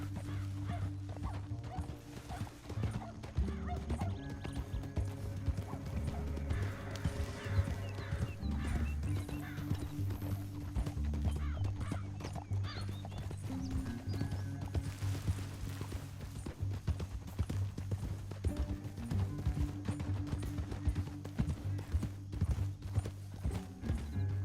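Horses gallop in the video game Red Dead Redemption 2, with rhythmic hoofbeats running throughout alongside neighs and whinnies, layered over a low ambient music bed.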